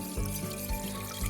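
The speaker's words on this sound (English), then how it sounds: "So now I'm gonna just pour in my plant-based milk. Here I'm using soy" Unsweetened soy milk is poured into a pot for vegan mac and cheese, a continuous low liquid gurgle and splash close by, with no talking.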